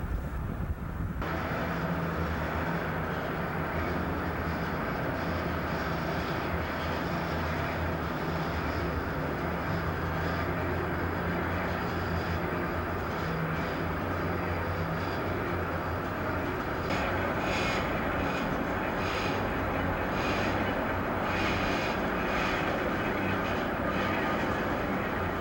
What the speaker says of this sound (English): huge DC motors slowly turn the bridge, using a complicated set of gears and shafts under the center pivot point